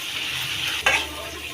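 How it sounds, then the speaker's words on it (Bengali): Duck meat cooking down in a pan sizzles steadily, with a short splash and a louder hiss as a little water is poured in near the end. "কষানোর জন্য আমি অল্প একটু পানি দিছি যাতে ভালোভাবে কষায়।"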